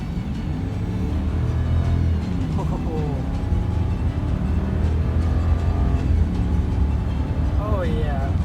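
A 2019 Ram Power Wagon truck pulling away hard from a stop, a loud, steady low engine rumble and cabin drone with rising tones as it gains speed.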